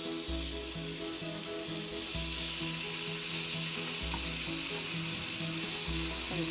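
Prawns in butter and garlic sizzle in a pan with the heat just switched off, a soft even frying hiss running under a steady low tonal hum.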